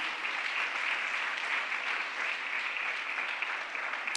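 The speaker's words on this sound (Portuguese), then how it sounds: "Dá mais um aplauso ao Senhor." A church congregation applauds in a steady, dense wash of clapping that holds evenly for several seconds, heard at moderate distance with no voices on top.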